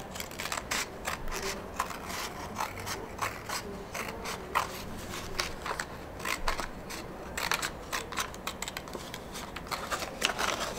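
Scissors snip around the pleated edge of a plate while a cow-shaped letterbox is cut out. The sound is a steady run of close, crisp cuts with small mechanical clicks, and there is no talking.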